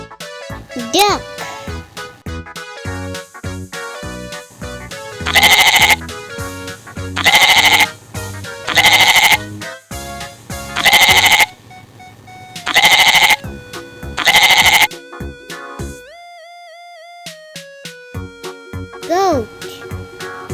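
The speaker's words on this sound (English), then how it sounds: "Goat." A goat bleats in a series of loud, wavering, evenly spaced calls near the microphone, with a voice and short musical tones around them in a children's animal sound guessing game.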